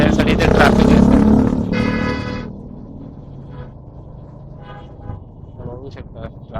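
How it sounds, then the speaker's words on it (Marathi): Evening rush-hour road traffic in Mumbai, a loud close roar of passing vehicles with a horn blast early on, then easing to a lower rumble while someone talks over it. "ट्रॅफिक तुम्ही बघू शकता केवढं"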